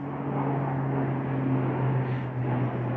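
An airplane passes over the woods along a ridge on a mountain day hike, a steady, distant, low rumble that holds through the whole stretch with no voices.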